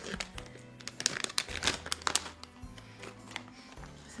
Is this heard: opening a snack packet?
yes